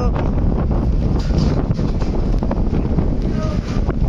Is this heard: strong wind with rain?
yes